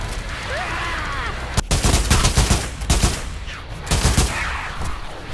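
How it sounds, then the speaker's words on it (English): Rapid gunfire cuts through a zombie fight in the VR shooter Pavlov, two clusters of loud, close shot bursts separated by brief lulls over a busy background. "I keep shooting zombies through a wall."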